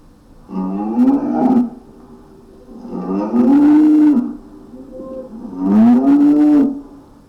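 A cow lows three times in a row, each moo long, deep and close, with short quiet gaps between and no other sounds.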